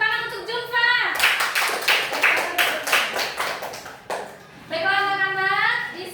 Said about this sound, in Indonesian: Beri tepuk tangan untuk Zulfa